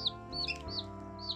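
Young chicks cheep in high, thin, short peeps, several in quick succession with small gaps, close and clear over a faint low steady background.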